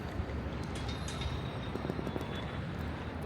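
A train rumbles at a station platform in Morocco while passengers wait for the bullet train to Tangier, a steady low roar of wheels and machinery with faint rattles over it.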